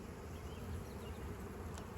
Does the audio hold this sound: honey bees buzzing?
yes